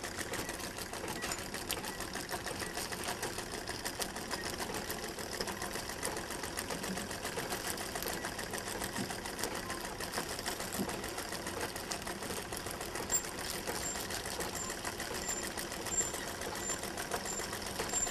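A sewing machine stitches a bag made from plastic waste, its rapid even needle clatter running continuously and close at a steady rhythm throughout, with no voices.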